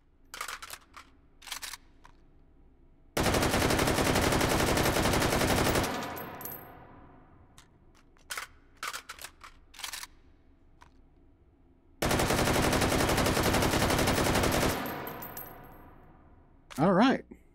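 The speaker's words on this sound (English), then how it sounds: "let's try a AK reload" Reload sequence for an AK-12 rifle in the VR shooter Hot Dogs, Horseshoes & Hand Grenades: scattered close metallic clicks and clacks of handling the magazine and action, broken up by two long, loud bursts of sustained gunfire.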